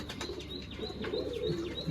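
Pigeons of the Kaka ji Nawan Killa breed coo in low, soft, rolling murmurs, with a few faint chirps from other birds, close and steady throughout.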